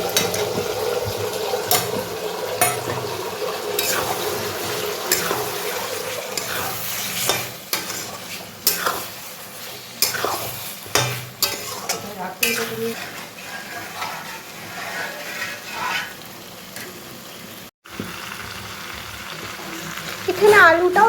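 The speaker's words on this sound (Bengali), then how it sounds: "এখানে আলুটাও দিয়ে দিয়েছি আমি, আলুটা দিয়ে কষাচ্ছি।" Chicken and potatoes sautéed in spiced oil in a pan, with continuous sizzling and frying plus repeated scraping and stirring clatters of the utensil throughout, close and moderately loud.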